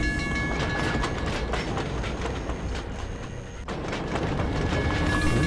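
Continuous subway train ride in a video game, a steady rumbling roll with rail clatter throughout, fairly loud and close, with a brief dip partway through and no talking.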